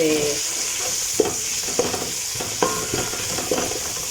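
Cumin seeds and onions fry in hot oil in a pan for a rice dish, giving a loud, steady sizzle up close, with a few stirring knocks and scrapes against the pan.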